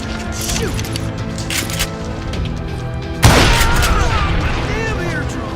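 Gunfire in the video game Call of Juarez: Gunslinger, with a loud sudden blast that rolls into a booming, crashing tail under a dense mix of game sounds and spoken voices.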